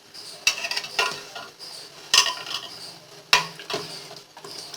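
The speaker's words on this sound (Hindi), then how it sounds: "बिरयानी पाउडर, इनको मिक्स करेंगे अच्छी तरह।" Biryani powder and black pepper powder are mixed into a pot for mutton biryani, heard as a spoon scraping and clanking against the metal pot in repeated strokes, close and fairly loud, with no talk.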